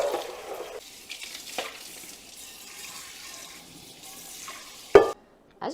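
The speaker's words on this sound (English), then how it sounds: "The grease is starting to come off. Not even having to scrub very hard." Greasy dishes are scrubbed with Dawn Powerwash spray dish soap: soft, wet, intermittent scrubbing and swishing close by, ending in a sharp clatter and then a brief quiet.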